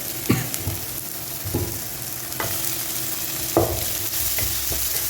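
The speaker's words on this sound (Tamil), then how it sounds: "ஸோ எண்ணெயில் நல்லா வறுத்துட்டோம்" Kadai chicken sizzles in hot oil in a pan, giving a steady frying hiss broken by several sharp stirring scrapes and clanks spaced a second or so apart, with nobody speaking.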